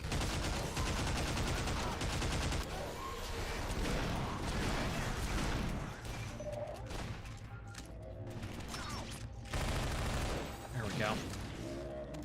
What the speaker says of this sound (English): this is a crazy firefight though